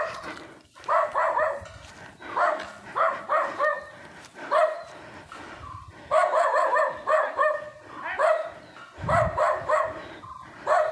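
Several village dogs in a hill village bark repeatedly in uneven bursts, close and loud, with some yips and whimpers mixed in and no talk.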